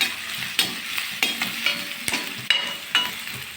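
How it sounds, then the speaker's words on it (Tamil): Onions sauté in a pan for a paneer butter masala gravy, giving a steady crackling sizzle with repeated stirring scrapes and clacks at irregular intervals, close and fairly loud. "வெங்காயம் போட்டதும் நல்லா வதக்குங்க"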